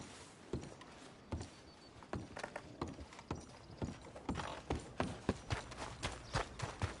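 Horse hooves clip-clop on the ground in Red Dead Redemption 2, a steady, close, rhythmic beat of distinct hoofbeats growing slightly louder over the stretch, with no other prominent sound.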